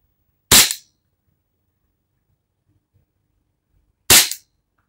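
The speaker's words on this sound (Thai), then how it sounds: "จะโชว์ยิงให้ดูเลยนะครับ" Two loud, sharp gunshots from a Taurus PT92 pistol, spaced about three and a half seconds apart, each a sudden broadband crack with a short decay, with near silence between them.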